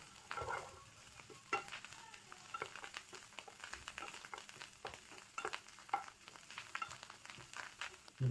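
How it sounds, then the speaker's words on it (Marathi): Chopped vegetables and mushrooms for a restaurant-style veg manchow soup sizzle in a hot pan, with repeated scraping stirs and clatter over a steady frying hiss, close and moderately loud, no talking. "जे व्हेजिटेबल आपण कटिंग केलं ते पण ॲड करूया. त्याला पहिले चांगला फ्राय करून घेऊया."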